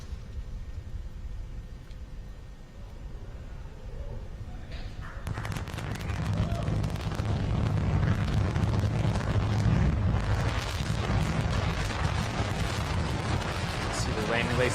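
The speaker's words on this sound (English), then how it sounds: "And landing burn has hit startup, and we have ignition." Falcon 9 first-stage rocket engine firing its landing burn, heard from a distance: a quieter wind-blown rumble gives way around the five-second mark to a loud, sustained, broadband roaring crackle that continues to the end.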